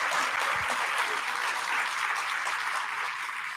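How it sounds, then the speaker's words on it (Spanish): Audience applause at a panel event on digital government and artificial intelligence, a steady, even wash of clapping from a seated crowd lasting several seconds without talk. "Este aplauso."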